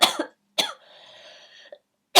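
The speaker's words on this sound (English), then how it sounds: "just had a coughing fit" A woman has a coughing fit indoors: a few sharp, loud coughs, a strained wheezing breath between them, then another hard cough, with no talk.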